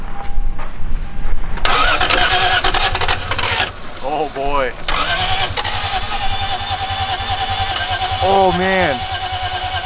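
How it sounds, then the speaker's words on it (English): Toyota 2JZ engine with no compression, with a steady cranking drone that runs nearly ten seconds and rises and falls repeatedly without catching properly, loud and close, while a man exclaims over it. "Sound of a no compression 2JZ, ladies and gentlemen."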